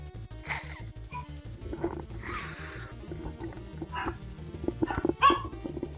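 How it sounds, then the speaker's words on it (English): A dog barks and yips in short, scattered bursts at moderate distance, over a low, steady background hum. "I hear a doggie."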